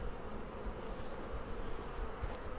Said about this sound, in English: they're fanning that Nazanov pheromone to make sure the bees know where to go.